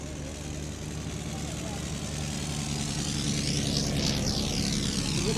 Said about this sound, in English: Blackburn supplied his multi-young customer with this single-seat monoplane of similar general configuration to the Mercury series